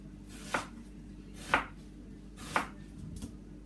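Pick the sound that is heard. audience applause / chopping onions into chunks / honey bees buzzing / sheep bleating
chopping onions into chunks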